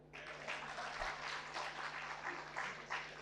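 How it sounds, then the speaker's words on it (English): Keynote audience at a public sector management talk applauding steadily, a dense sustained wash of claps from a large hall with a faint hum beneath. "I think we need a clap."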